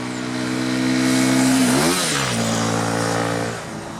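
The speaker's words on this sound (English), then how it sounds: "today I'm riding the BMW R1250RS" A BMW R1250RS motorcycle engine runs close by with a steady idle, then revs up and settles back to a smooth, loud mid-pitched hum before easing off near the end.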